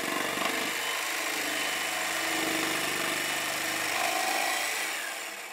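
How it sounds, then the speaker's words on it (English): A jigsaw cuts through a plywood blank in a workshop, a steady loud motor whine with buzzing blade chatter that runs throughout and eases off at the very end. "I'm going to use a jigsaw to quickly cut out each one"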